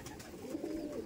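A Madras pigeon coos softly nearby in a low, steady murmur lasting about a second, with no talk over it.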